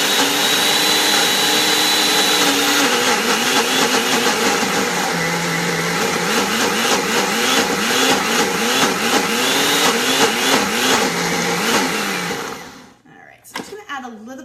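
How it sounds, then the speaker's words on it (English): A cracked blender whirs loudly and steadily as it purees a dragon fruit smoothie bowl, its motor pitch wavering and labouring for about twelve seconds before cutting off, followed by a few clattering knocks. "So let's throw this guy on. Blend him down a little bit."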